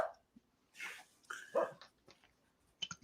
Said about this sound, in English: You can let your dogs bark on the stream.